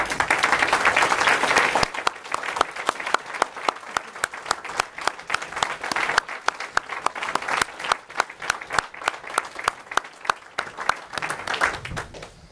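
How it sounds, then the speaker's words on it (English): A crowd at an Eagle Scout ceremony applauds veterans, dense clapping that thins out after the first couple of seconds into scattered, distinct claps continuing for about twelve seconds. "please stand so we can give them another round of applause"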